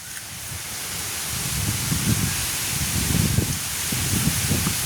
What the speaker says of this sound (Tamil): சரியான காத்து அடிக்குதல்லோ